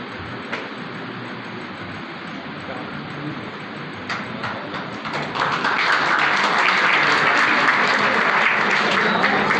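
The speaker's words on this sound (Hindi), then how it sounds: "उनके लिए बहुत सारी तालियां एक साथ" Audience applause at an annual exam-results and prize distribution ceremony at Jwala Devi Civil Lines, a steady crowd clapping that swells louder midway and continues densely to the end, with an announcer's voice underneath.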